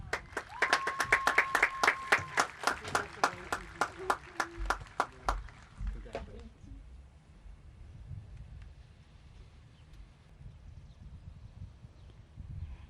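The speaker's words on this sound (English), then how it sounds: "let's give a nice round of applause for the class of 2020" Audience applause at a 2020 commencement ceremony for the graduating class, with a burst of sharp, rhythmic claps for the first six seconds that quickly fades to wind and faint background noise.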